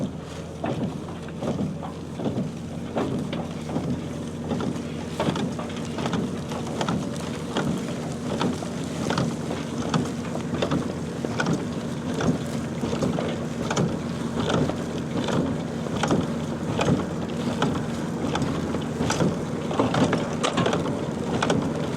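A small baler that has just come out of long storage runs steadily, giving a continuous mechanical rumble with faint rhythmic clicking throughout and no voices.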